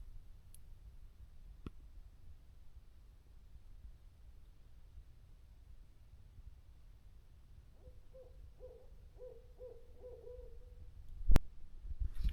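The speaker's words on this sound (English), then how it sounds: "Did you hear that hoot owl?" An owl hoots at night along a Florida hiking trail, a short run of five or six low, evenly spaced hoots from a moderate distance over quiet night air, with a sharp click near the end.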